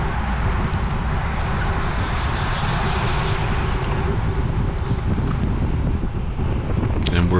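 Constant roaring wind buffets the microphone of a cyclist riding into a headwind in a Cat 4/5 spring road race, loud and steady throughout, with faint mechanical whirring underneath.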